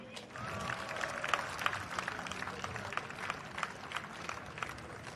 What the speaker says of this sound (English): I think both teams deserve another round of applause